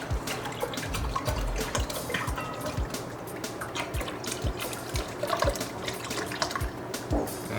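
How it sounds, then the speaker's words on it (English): Soy sauce glugging from bottles into a beef stock marinade for venison jerky, a steady liquid pour heard close and alone with a few low splashes throughout. "Starting with 1 part beef stock, then both these bottles of soy sauce,"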